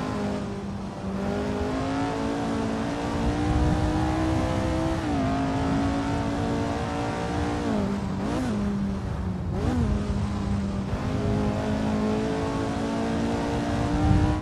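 The Lotus Type 49 race car in the Assetto Corsa video game, its engine droning at high revs with brief dips and rises as gears shift, loud and continuous.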